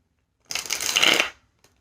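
A deck of tarot cards shuffled close up, one quick rustling, riffling burst lasting about a second, then near silence.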